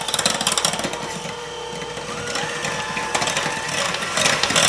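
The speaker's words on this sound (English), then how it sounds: "we're going to go ahead and mix that up. And we're going to mix it up really well" Pancake batter for banana pancakes being mixed vigorously until foamy, a steady run of busy, rapid clattering and whirring that holds close and fairly loud throughout with no talking.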